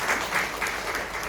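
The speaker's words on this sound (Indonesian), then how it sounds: "Tepuk tangan bagi Yesus." A congregation claps for Jesus during a church service, a short burst of steady, loud, close applause filling the room.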